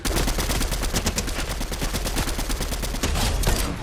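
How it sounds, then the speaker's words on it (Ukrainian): Rapid, loud automatic gunfire from the video game Fortnite rattles in continuous close bursts throughout, with no voices over it. "Де тут челік який стріляє?"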